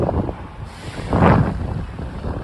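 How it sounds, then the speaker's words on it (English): Wind buffets the microphone in loud, uneven rumbling gusts on a night street in Midtown Manhattan, New York City, swelling to a stronger blast midway. "Very windy night here in Manhattan."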